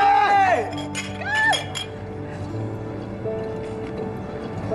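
Glasses clink together twice in quick succession during a celebratory toast, bright ringing chimes close up, with voices murmuring in the background.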